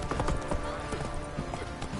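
Roach the horse gallops in a video game, its hooves thudding in a quick, even clip-clop rhythm that stays close and loud throughout, with a voice talking over the top.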